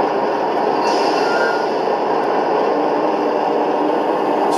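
Märklin gauge 1 V188 diesel locomotive model running with its engine sound module, a steady, loud, noisy rumbling hum with a faint high whine throughout, no speech.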